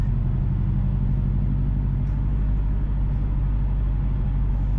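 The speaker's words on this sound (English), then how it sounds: "So currently we are driving north on Orange Street." A car drives north along a busy one-way downtown street in Kingston, Jamaica, giving a loud, steady road rumble and engine drone that does not let up, with no voices.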